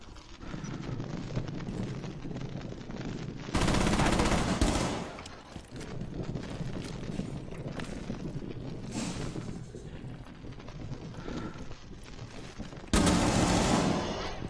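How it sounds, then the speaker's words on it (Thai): Automatic gunfire in the video game Rainbow Six Siege, with two loud bursts of rapid shots standing out over continuous in-game noise and rumble. "แม็กแรกยิงไม่โดน ยิงขึ้นฟ้าว่ะ"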